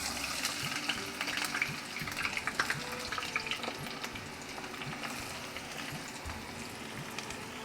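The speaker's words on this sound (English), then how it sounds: "And now I'm going to fry these onions." Onions frying in a pan for a vegetable biryani, a steady close crackle and sizzle with scattered sharp pops running throughout, with no talking.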